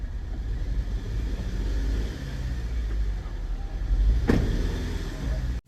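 A car engine held at a raised, steady RPM during an oxygen and wideband sensor test, a loud continuous drone close by with a brief sharp click near the end.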